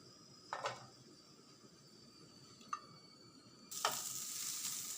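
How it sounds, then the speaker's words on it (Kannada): Onion frying in hot oil in a pan, a soft steady sizzle with a few sharp stirring clinks, then a louder burst of hissing near the end. "ಎಣ್ಣೆ ಅದು ಕಾಯ್ದ ಮೇಲೆ ಅದಕ್ಕೆ ನೀರುಳ್ಳಿ ಮತ್ತು ಬೇವರೆ ಹಾಕಿ ಫ್ರೈ ಮಾಡಿಕೊಳ್ಳುವುದು"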